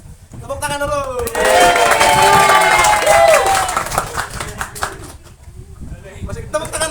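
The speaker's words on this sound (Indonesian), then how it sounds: "Masih tepuk tangan lagi." An audience claps steadily for several seconds, with scattered voices and cheers mixed into the applause before it thins out into a murmuring crowd.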